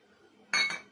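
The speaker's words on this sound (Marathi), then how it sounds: "आता मी इथे 1 चमचा तेल घेतलंय, ते टाकून घेऊया" A spoon clinks once against a bowl as oil is added to a yogurt marinade for tandoori chicken, giving a bright, close metallic chime that rings briefly.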